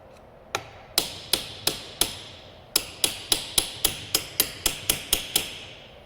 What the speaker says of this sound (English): so you just hammer the entire gland up inside of there